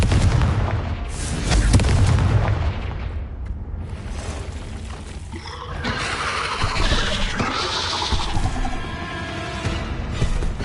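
Confringo fire spell blasts in Hogwarts Legacy gameplay, loud booming explosions and crackling impacts layered over dense game effects and music, with repeated bursts through the stretch.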